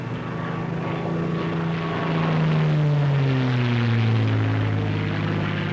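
A P-51 Mustang fighter plane roars as it pulls out of a dive, a loud, sustained propeller-engine drone whose pitch slides downward as the note swells, with no voices over it.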